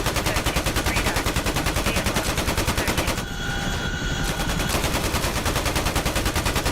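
Helicopter door gunners firing machine guns in the flight simulator DCS World over the Persian Gulf, loud rapid rhythmic bursts with a short pause where the rotor drone shows through.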